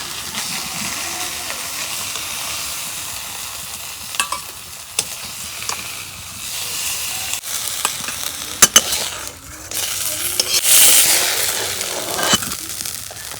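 Katla fish sizzle in a pan of hot oil at home, a moderate frying hiss broken by stirring scrapes and a few sharp crackles and pops, louder toward the end.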